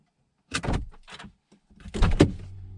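The door of a 981-generation Porsche Boxster or Cayman opens in two bursts of mechanical clicks and latch rattles, with a faint motor whir at the end, close by and with no talk.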